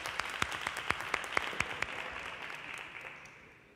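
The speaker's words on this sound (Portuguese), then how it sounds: "Salve de palmas." A congregation at a church service claps together in a round of applause, steady overlapping hand claps with a few sharp nearby claps standing out, fading gradually toward the end.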